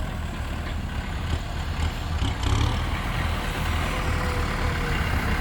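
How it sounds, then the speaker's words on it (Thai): A rice-harvesting combine harvester crosses a paddy field with a low, steady engine rumble and drone, fairly close and even in level, with a brief swell of louder mechanical noise midway and no speech over it. "นี่รถเกี่ยวข้ามสบายเลย"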